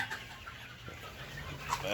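Poultry chickens on a farm in Nilphamari cluck in short, scattered calls, fairly faint against a low background murmur.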